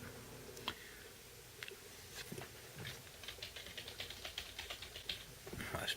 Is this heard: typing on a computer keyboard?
yes